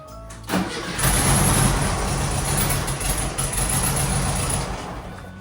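A 1968 Volkswagen Beetle engine cranks briefly, catches, and settles into a steady, fairly loud idle with a faint high whine riding over it.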